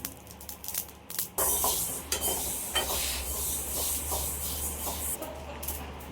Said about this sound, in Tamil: கடுகு பொரியுது பொல பொலன்னு